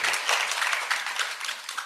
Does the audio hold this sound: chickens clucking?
no